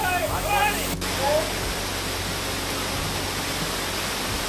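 Waterfall on the trail to Raireshwar fort, a dense continuous roar of pouring water that swamps everything after a brief opening moment.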